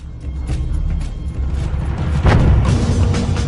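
A deep explosion sound effect representing the 1980 lateral blast of Mount St. Helens, a stratovolcano, rumbles loudly and swells into a heavier boom partway through, with no speech.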